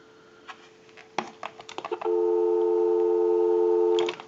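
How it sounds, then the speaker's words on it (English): Sharp clicks and short tones as a vintage frog-shaped telephone line is handled, then a steady dial tone hums for about two seconds before more clicks. "Go ahead and give you some dial tone."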